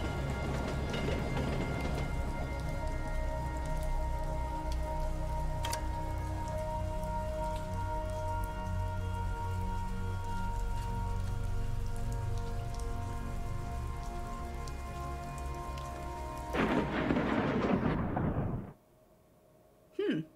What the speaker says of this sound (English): Oh, I'm loving the rain.